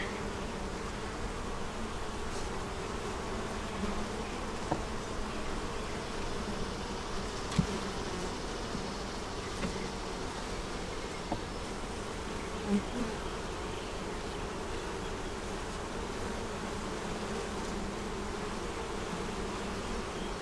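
Honey bees in a steady low buzz around an open Flow hive with frames of honey, pollen and nectar, a constant faint drone with no talk.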